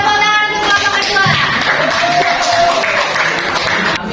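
A classroom of students claps for the second discussion group in a school lesson, a loud, dense burst of applause lasting throughout with voices and chatter mixed in.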